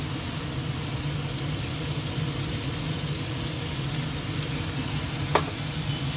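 Spice paste frying in a pan while being stirred, a steady dense sizzle with a low rumbling undertone and one brief sharp utensil knock toward the end.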